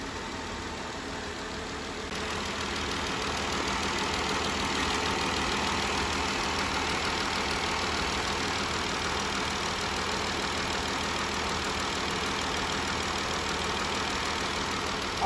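The 3.6-litre Pentastar V6 of a Jeep Wrangler idles steadily and closely, a constant engine hum that runs unbroken throughout, with no talk. The engine is suspected of a cylinder misfire or low compression.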